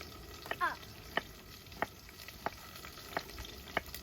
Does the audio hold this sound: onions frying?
yes